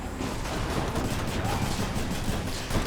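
The Exagryph gun in the Hades video game fires in a dense, continuous volley of rapid shots mixed with combat noise, loud and sustained throughout.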